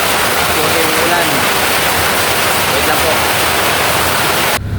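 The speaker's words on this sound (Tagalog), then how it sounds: "Malakas po yung ulan." Heavy rain pours down as a loud, dense, continuous hiss that fills the whole scene and cuts off abruptly at the end. A person speaks briefly under the roar.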